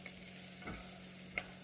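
Ingredients for Thai curry noodle soup start cooking in a pan, giving a faint, steady sizzle with a soft stirring scrape partway through and a light click near the end.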